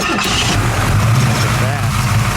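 A 1970 AMC AMX with a 390 cubic inch V8 cranks and catches close by, the engine note jumping up into a loud, rough rumble within a couple of seconds. Voices can be heard over it.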